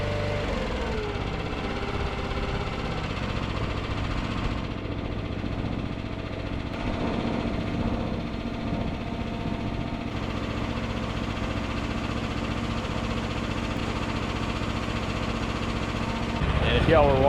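A log processor engine running steadily nearby, a continuous mid-pitched mechanical drone with a faint knock, rising slightly at the very end, while someone talks over it.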